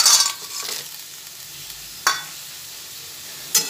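Fried lentil dumplings dropped into a simmering neem leaf and vegetable curry, a close splash and stir at the start followed by two short sharp clinks or plops against a quiet sizzling background.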